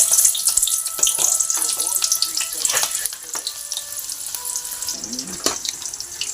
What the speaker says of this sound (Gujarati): તો આપણે તળ નાખીએ ડુંગળીને